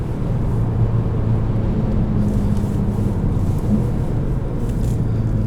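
A 2021 Volkswagen GTI SE with a 2.0 turbo engine and manual gearbox gives a steady, low engine drone and road rumble from inside the cabin, even and continuous throughout with no talk.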